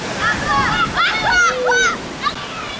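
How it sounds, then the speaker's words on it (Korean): Children shout and call out with high voices while they play in a cold valley stream in a Tajik canyon, with a constant rush of water beneath. "한 계곡에서 아이들이 물놀이하는 모습을 보고 잠깐 차를 세웠다."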